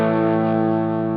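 A single sustained, heavily distorted electric guitar chord through a Line 6 Helix overdrive at full gain, loud and buzzing with saturated overdrive, ringing out evenly without fading.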